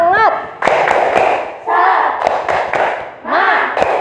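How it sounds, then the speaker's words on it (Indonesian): A primary school class performs the Indonesian tepuk semangat clap chant, sharp rhythmic hand claps and thumps ringing out in bursts, with children chanting between the claps. "Yuk, tepuk semangat."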